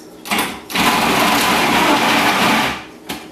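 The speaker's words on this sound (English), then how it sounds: "do the lazy man's way of shredding cheese with the food processor" Food processor shredding cheese, a loud continuous whirring motor with a short burst, a pause, then a longer run of about two seconds before it stops.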